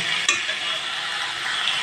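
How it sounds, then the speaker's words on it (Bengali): Spices sizzle and fry in a pan with a little water, a quick scrape of stirring near the start, a steady hiss throughout. "এখানে একটু অল্প করে জল দিয়ে মশলাটা কষিয়ে নেব"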